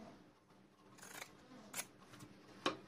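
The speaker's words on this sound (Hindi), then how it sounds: "अब इस तरीके से मोड़ करके ये कटिंग कर देंगे" Scissors snipping through folded cloth for a small Laddu Gopal deity dress, giving a few soft, faint snips at scattered moments against quiet room tone, with no talking.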